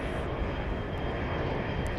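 A JSX CRJ regional jet at Dallas Love Field, heard as a steady, loud broadband engine roar that holds evenly throughout with no talk over it.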